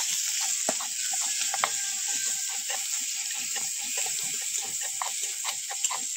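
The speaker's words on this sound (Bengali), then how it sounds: "পেঁয়াজ কুচি, রসুন, পেঁয়াজটা একটু লাল করে ভেজে নেব।" Chopped onion and garlic with five-spice seeds frying in a pan: a constant bright hiss of sizzling oil with scattered crackles and pops, close and steady throughout, no voices.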